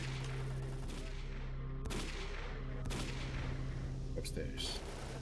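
Repeated gunfire from a game set on the road to Pripyat, sharp loud shots at intervals over a constant droning background, with speech faintly present.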